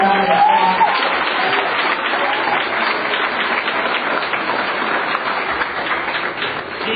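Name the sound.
audience applause for a state representative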